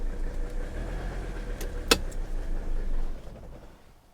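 Engine of an old Mercedes-Benz diesel running steadily, then shutting off near the end as the low rumble fades away, with a brief click partway through.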